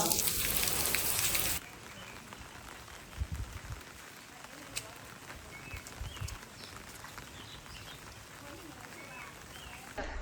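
Steady rain hisses continuously, with scattered louder drips and faint voices in the distance.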